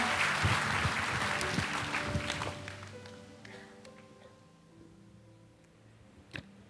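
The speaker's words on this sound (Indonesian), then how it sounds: "Tepuk tangan yuk buat Tuhan." A church congregation claps together in sustained applause that gradually thins and fades out over several seconds, with a few scattered claps near the end.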